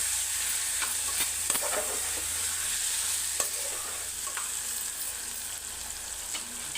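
Chili powder fries in a pan of aloo mutton curry, giving a steady soft sizzle with occasional stirring scrapes and clicks throughout, close and continuous with no talking.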